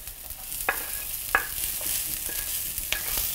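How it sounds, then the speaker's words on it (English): Rice fried in a little oil in a pan with garlic, ginger and onion: an even sizzle broken by a few sharp utensil taps and scrapes against the pan, no one speaking. "I'm just going to add a tiny touch of oil here and swish that around my pan, and then I'm adding my rice in"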